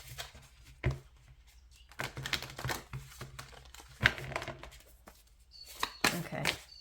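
Tarot cards are shuffled in several short, papery bursts of riffling and slapping, separated by brief quiet gaps, close to the microphone.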